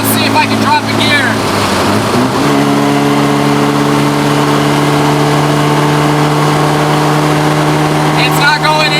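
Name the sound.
car with Nissan KA engine revving while shifting gear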